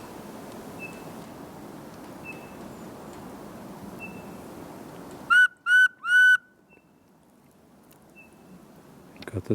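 Three loud, clear whistled notes from a person in the woods, rising sharply in quick succession against a quiet forest background, with faint bird chirps scattered before them.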